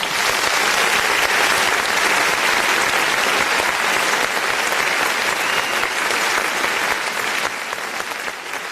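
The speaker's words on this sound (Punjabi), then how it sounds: "ਇੱਕ ਵਾਰੀ ਤਾੜੀ ਮਾਰ ਦਿਓ" A crowd at a national kabaddi championship claps loudly and steadily, a dense wash of applause that holds strong and eases slightly near the end.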